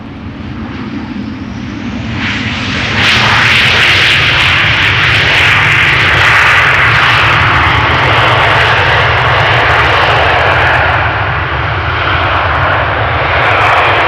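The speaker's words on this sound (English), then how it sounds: "KLM 737 arriving from Zurich" A KLM Boeing 737 airliner arriving at Amsterdam Schiphol Airport roars close by, its loud jet-engine rumble swelling quickly and holding steady and powerful as it passes.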